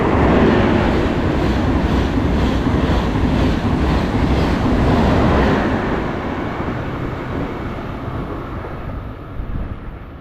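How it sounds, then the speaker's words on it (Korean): A loud, steady rumble of a train passing through a station platform without stopping, roaring with wind-like noise that slowly eases off toward the end. "2번으로 들어오는 열차는 우리 역을 통과하는 열차입니다."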